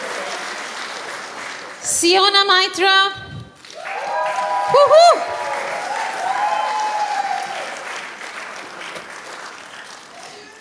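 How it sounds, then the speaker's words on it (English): An audience at a community arts festival honouring photography exhibitors breaks into steady applause, with a loud 'woohoo' cheer and an announcer reading out names over the clapping. "Let's give a bigger round of applause"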